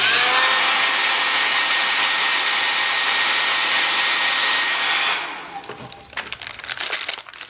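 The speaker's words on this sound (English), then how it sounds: "now when I start blow drying this, you'll see that it gets waxy" A hair dryer blows hot air onto candle wax, roaring loud and steady for about five seconds, then cuts off, leaving faint crinkling and clicking handling sounds.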